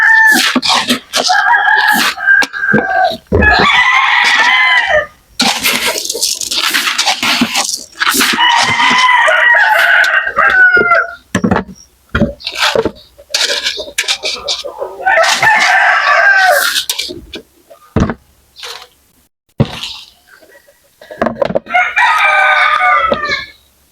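Roosters and chickens on a muddy farm, including Texas and native birds, crow loudly and repeatedly, with clucking between the calls, close by and continuing throughout.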